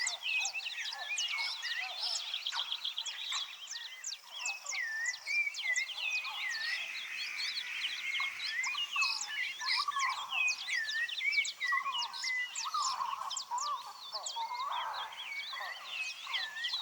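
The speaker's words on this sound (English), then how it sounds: "Hear the birds singing." Many small birds chirp and trill continuously in a dense, bright chorus, moderately distant, with no talking.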